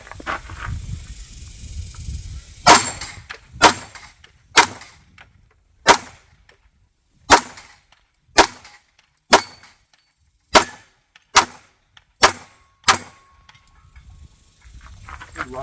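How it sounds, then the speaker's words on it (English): Stoeger STR-9 9mm pistol shots crack out one at a time, a dozen sharp reports spaced about a second apart, loud and close with brief ringing tails. "Get some shots in."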